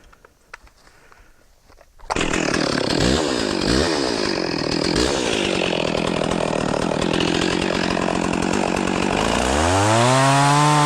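A Stihl 036 chainsaw fitted with a 25-inch bar roars loud and steady as it cuts through wood, its engine pitch dipping under load, then revving up high and clear at the end after a quiet start.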